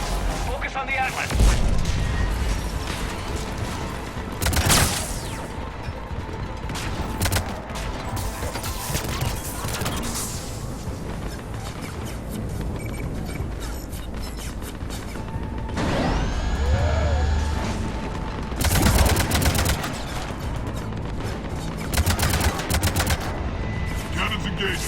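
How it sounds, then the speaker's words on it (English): Heavy cannons fire during a space fleet battle in Mass Effect 3, loud booming blasts and crashes recurring at irregular intervals over dense explosions, machinery and combat noise, with voices talking in between. "Cannons engaging."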